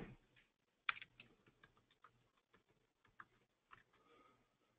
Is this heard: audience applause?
no